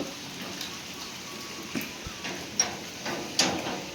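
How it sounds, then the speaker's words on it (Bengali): Steady rain pours down outdoors at a home, a dense, even hiss with scattered sharper drips and ticks landing on nearby surfaces, with no voices. "দেখতে পাচ্ছ কত বৃষ্টি হলো সব ভিজে গেল"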